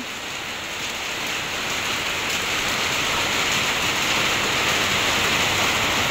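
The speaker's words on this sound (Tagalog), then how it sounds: "O naman po kalakas po nung ulan." A heavy downpour falls outdoors beside a creek, producing a steady, loud, broadband roar of rain on the ground and nearby surfaces, unbroken and building slightly, with no voices over it.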